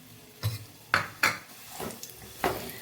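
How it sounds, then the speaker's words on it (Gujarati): Pitted dates roasting in leftover ghee in a pan over a low flame for winter date and sesame laddoos, with faint sizzling under a series of sharp spatula scrapes and clinks against the pan. "આ ખજૂરને સરસ શેકી લેવાનો છે"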